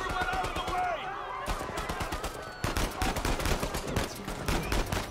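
Rapid gunfire in the Uncharted 4 video game, bursts of automatic shots and scattered single cracks rattling continuously and loudly, with a brief lull before a heavier, denser volley; game voices and talk sound underneath.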